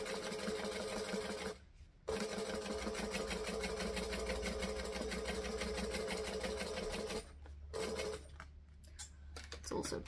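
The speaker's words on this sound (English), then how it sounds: "Can you hear that? The machine sounds weird." A sewing machine stitches fabric with a rapid, even mechanical whir and tick, close and steady, briefly stopping twice before resuming, with no talk over it.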